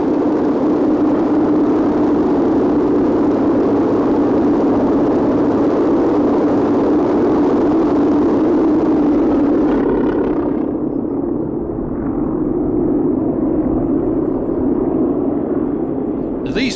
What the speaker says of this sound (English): Chaika is the fastest biplane fighter ever produced